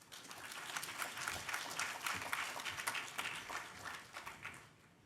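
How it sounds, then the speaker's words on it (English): Dense, sustained applause from a large hackathon audience at the ETHGlobal New York 2023 closing ceremony, greeting team Space Guardians, swelling through the middle and tapering off near the end. "let's give a massive round of applause to Space Guardians"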